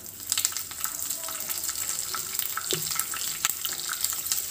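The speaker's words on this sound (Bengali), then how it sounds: "একটু তেলের সঙ্গে নেড়ে চেড়ে নিচ্ছি।" Sesame seeds, asafoetida and slit green chillies frying in hot oil, a busy crackling sizzle with scattered pops and a faint scrape of stirring, close and steady.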